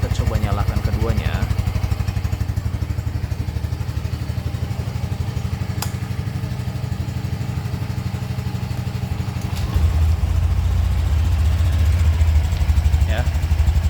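Two scooters, a Honda Beat and a Yamaha Freego S Connected 125, idle side by side close up in a steady, loud engine drone. The tone thickens and rises slightly near the ten-second mark.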